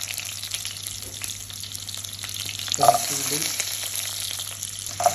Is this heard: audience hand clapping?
no